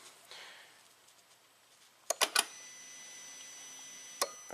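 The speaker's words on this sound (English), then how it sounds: "so something clicks in here" Relay clicks on a Chrysler Crossfire, triggered as a test light grounds its control pin: a quick cluster of three sharp clicks, then a single click about two seconds later, in a quiet setting.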